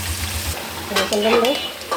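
Steady frying sizzle of chicken in a pan with occasional stirring and scraping, fairly close and moderately loud, no voices.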